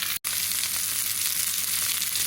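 Pork hock browns in a skillet pot over a fire, giving a loud, continuous close-up frying sizzle that stays steady throughout apart from one brief dropout near the start.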